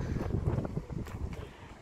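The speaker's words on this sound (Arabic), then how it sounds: "راه ريح اليوم هنايا، راه ريح اصلا الجو مغيم" Gusty wind blowing outdoors on an overcast day in the Flemish town of Oudenaarde, Belgium, a steady low rumbling roar buffeting the microphone throughout.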